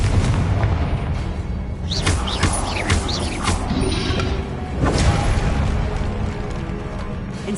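Confringo explosive spell firing in Hogwarts Legacy during combat, with repeated sharp booming blasts and crackling bursts over a dense, steady rumble of game noise, no voices.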